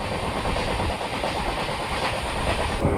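A train bound for Udaipur rumbles along the rails with a steady rhythmic clatter and a high hiss, continuous and close, heard from inside, no voices.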